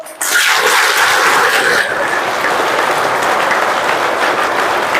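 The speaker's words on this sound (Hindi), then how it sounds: "ताली बजा के बताओ तो।" Children at a retreat clap together in a loud, sustained burst of applause that starts abruptly and continues steadily to the end, with no talking over it.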